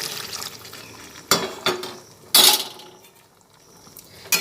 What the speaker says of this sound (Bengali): আমি এখানে ছোটো বাটির এক বাটি জল দিচ্ছি